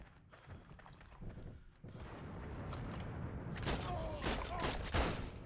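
Gunfire in the online war shooter Heroes & Generals: a busy battlefield mix of rolling shots and bursts that grows louder and denser in the second half, with sharp cracks near the end.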